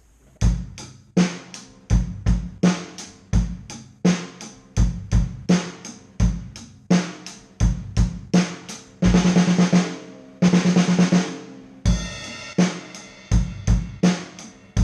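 A steady rock drum beat with kick, snare and hi-hat, broken by fast single-stroke-seven rolling fills across snare and toms, each ending on a crash.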